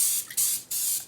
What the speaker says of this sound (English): I'm also going to spray down my baking tray